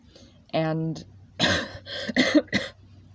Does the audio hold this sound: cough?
yes